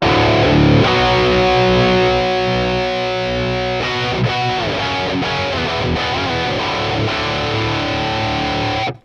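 A heavily distorted electric guitar plays metal continuously through the Amped: Roots amp simulator, with thick sustained chords and changing notes throughout, loud and close.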